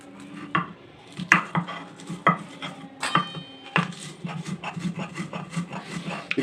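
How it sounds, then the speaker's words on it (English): A pestle grinding lemon in a bowl, with irregular knocks and scraping strokes at close range, some sharper clacks among softer rubbing, and no speech. "I found my pestle and now let's grind."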